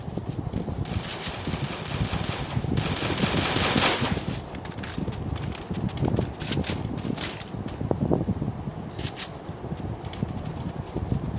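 Assault rifle fire in the Free Fire mobile game crackles in rapid bursts of shots, with dense, steady rattling throughout and a few louder single cracks standing out near the end.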